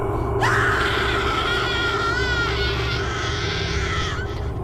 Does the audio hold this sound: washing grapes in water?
no